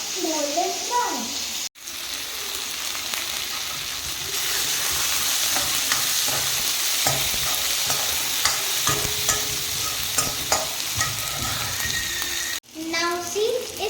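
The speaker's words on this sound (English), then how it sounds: "Now we have to fry some onion. Let it fry some golden brown." Onion frying in a pan for poha, a dense close sizzle with frequent stirring scrapes, a faint voice heard briefly at the start and end.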